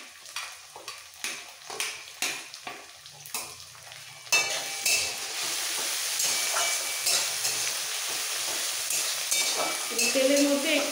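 Grated garlic, ginger and chopped green chillies meet hot oil for a street-food style potato curry: a run of sharp spoon taps and scrapes on the pan, then a loud, continuous sizzle with stirring on top.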